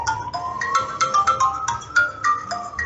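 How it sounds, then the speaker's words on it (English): Phone ringtone beeping in a repeated melodic pattern of short bright tones, fairly close and clear, with no speech over it. "your phone is beeping"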